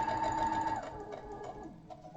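A domestic sewing machine runs steadily with a whirring hum while quilting a star block, then slows and stops with a soft mechanical shift as the presser foot lifts, close and moderately loud with no talking.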